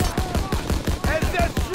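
Rapid bursts of automatic gunfire pound steadily in a Call of Duty: WWII battle, shots coming in a regular stuttering rhythm, loud and close, with shouted voices and whistling tones over the din.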